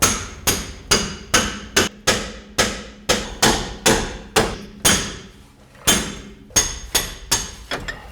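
Heavy hammer blows drive a pickle fork to separate a ball joint on a Jeep Cherokee XJ, about fifteen sharp metallic strikes in a steady rhythm with a brief pause midway, loud and close with no talk.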